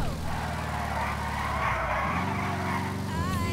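A stock Eudora classic car in GTA 5 Online driving with a loud engine hum that shifts pitch as it goes, with tyres briefly skidding and squealing near the end.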